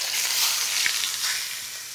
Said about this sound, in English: So I'm gonna do a little extra virgin olive oil in a super, super hot cast iron skillet.